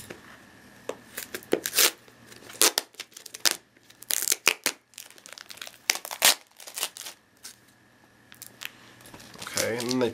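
A tightly sealed cardboard package box is pried open, its packing tape crinkling, crackling and tearing in close, irregular bursts, with a voice heard faintly now and then.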